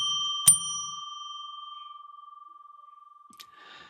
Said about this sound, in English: I will now ring a bell 3 times, as is my habit.